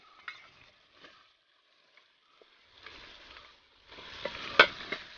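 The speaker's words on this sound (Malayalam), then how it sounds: "ഇഞ്ചിയും വെളുത്തുള്ളിയും ചെറുള്ളിയൊക്കെ ചതച്ച സാധനമാണ് അപ്പോൾ ഇത് കുറച്ച് നമുക്ക് ഇട്ട് കൊടുത്തത്" Crushed ginger, garlic and shallots frying in a pan for chicken kadai, faint intermittent sizzles and stirring scrapes that grow busier and louder toward the end.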